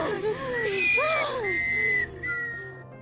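A person whistles a wavering, sliding melody in several phrases, close and fairly loud, with a faint murmur of voices beneath.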